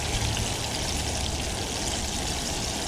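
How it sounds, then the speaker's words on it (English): Catfish pieces frying in hot oil on a bankside cook setup, a steady dense sizzle and bubbling that stays even and close throughout with no pauses. "See how this back piece back here is starting to slow down cooking, not bubbling as much?"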